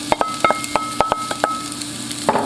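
Onions for a vegetarian chili fry in a pot with a soft, even sizzle, broken by sharp close clinks and taps of a utensil stirring against the metal.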